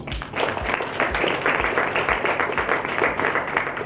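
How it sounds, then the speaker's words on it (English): Audience applause at an annual company gala, a steady, moderately loud crowd of clapping hands sustained for several seconds, with a faint rhythmic low thump underneath and no speech. "Audience, please give a round of applause"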